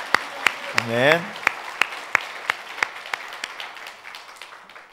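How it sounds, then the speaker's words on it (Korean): Church congregation claps in thanks during a Korean sermon, a steady series of sharp, evenly spaced hand claps running throughout, with a brief spoken word from the pastor near the start. "하나님께 감사의 박수를 일단 한번 올려드립니다"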